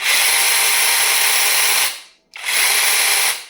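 A battery-powered mini chainsaw whirs steadily at high pitch, cuts out briefly for a moment, then spins up again and keeps running, loud and close.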